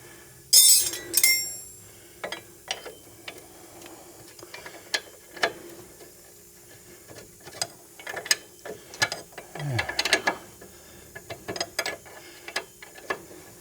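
Ratchet wrench loosening the nut on a front ball joint of a 2006 Pontiac Torrent, heard as repeated sharp metallic clicks in short bursts, close and fairly loud, with clinking between strokes.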